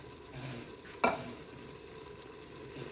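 Browned ground beef for an American goulash sizzles softly in a pot, with a steady low fry broken by one sharp stir or scrape about a third of the way in.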